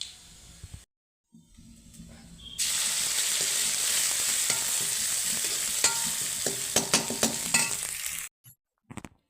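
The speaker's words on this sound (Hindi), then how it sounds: "तो छाछ में लगा दिया है मैंने तड़का, और मेरी चूल्हे पर बन रही है छाछ" Tempering crackles and sizzles loudly in buttermilk for kadhi on a stove, a dense hissing fry that bursts in after a brief quiet and runs steadily before cutting off.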